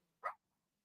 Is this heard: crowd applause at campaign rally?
no